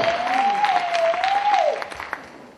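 A church congregation applauding and cheering, with sustained clapping from a crowd under a long held vocal tone, fading toward the end.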